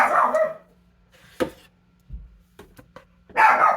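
Two loud dog barks at sirens, one at the start and one at the end, with a few faint clicks and thumps between them.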